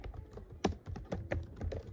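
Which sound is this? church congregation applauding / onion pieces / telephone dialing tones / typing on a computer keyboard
typing on a computer keyboard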